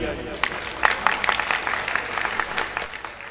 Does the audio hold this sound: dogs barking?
no